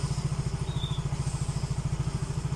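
A Yamaha Mio J motorcycle engine idles steadily at standard revs after an ISC reset, a close, even low putter with a regular pulsing beat throughout.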